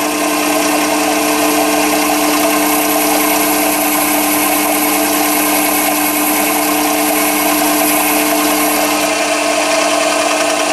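A metal lathe runs steadily as it skims the wall of a brass plumbing coupling, a continuous mid-pitched machine drone with a fine cutting hiss, loud and close throughout with no talking.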